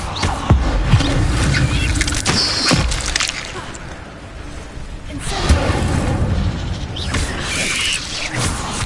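An Incendio fire spell in Hogwarts Legacy bursts out in loud whooshing flames, with booming surges and crackling that swell, ease off briefly and flare again.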